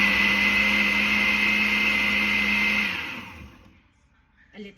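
A blender whirs steadily at high speed mixing strawberry milk, loud and constant for about three seconds before winding down and stopping, with a faint bump near the end.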